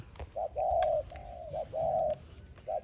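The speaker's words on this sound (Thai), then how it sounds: "อันนี้คือนกต่อนะครับ" A decoy dove coos nearby in a short rhythmic series of soft, hollow calls with brief pauses between them.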